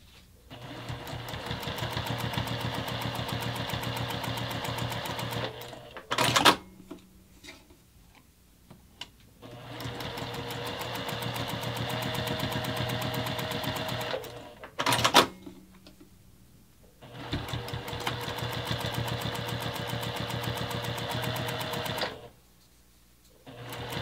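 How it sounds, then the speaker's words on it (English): A sewing machine top stitches the pressed edges of a strap and strap extender at an eighth-inch seam, running in three long steady bursts with short pauses and clicks between them, close by. "take both the strap extender and the strap over to the sewing machine and top stitch both of the pressed edges"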